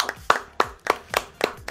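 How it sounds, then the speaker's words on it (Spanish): Hands clap in a steady, even rhythm, about six sharp claps, fairly close and dry. "Un aplauso para Saba."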